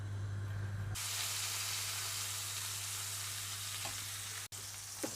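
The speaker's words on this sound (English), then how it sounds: "I'm going to add my pork fillets to that oil, and I just want to lightly brown my pork fillets all over in that hot oil." Pork tenderloin fillets browning in a pan of hot oil give a loud, steady sizzle that carries on almost without break, with one brief dip near the end.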